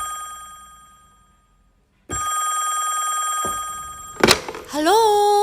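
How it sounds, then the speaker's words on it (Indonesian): A home telephone rings at close range: a sustained electronic ringing tone, a clunk as it cuts off, then a rising warbling ring tone afterwards, all without talk. "telepon rumah mereka berdering"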